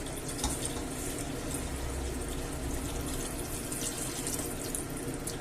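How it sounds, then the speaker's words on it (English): Water pours steadily into a pot of seafood and potato stew, a continuous splashing stream with a faint bubbling fill, close and fairly quiet, with no voices. "And I'm going to add water."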